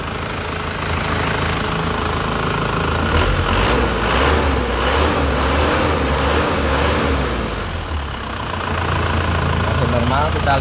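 A 2002 Panther LS car engine idles steadily close by, a constant throaty rumble with a slight mechanical clatter and no break in its drone.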